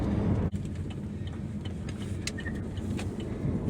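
An electric vehicle accelerating smoothly from inside the cabin: a steady, even low rumble of road and drivetrain noise that holds constant without gear changes, with a brief dip near the start.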